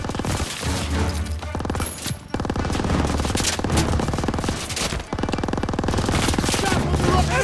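Sustained machine gun fire in a Call of Duty: WWII battle rattles in dense rapid bursts across the whole stretch, loud and continuous with brief pauses, layered with battlefield noise and a shouted voice.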